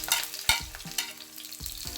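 Onion, green chilli, ginger and curry leaves sautéing in hot coconut oil in a pan, a close crackling fry with sharp clatters of a spoon stirring, backed by faint music.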